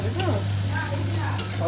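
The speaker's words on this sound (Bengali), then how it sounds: "এটা একটু বেশি করে ভাজতে হবে তো" Chopped onions frying in a pan in a home kitchen, with a steady low sizzle and soft scraping stirs over a constant low hum.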